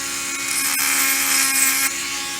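A power tool buffs a bullet button held in pliers, giving a loud, continuous whirring grind with a brief dip near the end.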